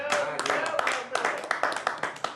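Audience clapping on a comedy chat show stage, a dense burst of applause rising and falling in waves with sharp hand claps, close and lively, mixed with cheering voices.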